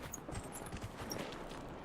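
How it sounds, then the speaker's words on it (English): A horse's hooves clip-clop in the fantasy game Dragon Age Inquisition, a quiet steady walking rhythm with faint chimes above, no talk. "This is me riding horse and riding away."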